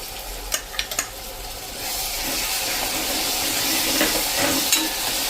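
Tomato puree made from two medium tomatoes goes into a pan of sizzling cauliflower and peas, opening with a few sharp clinks before a steady frying hiss.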